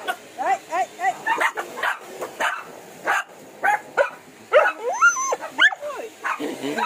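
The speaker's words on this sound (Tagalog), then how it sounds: "ayan yung isa naming aso. Ringo." Several pet dogs bark and whimper in quick repeated bursts, close and loud, with yips and whines mixed among sharper barks in an uneven rhythm.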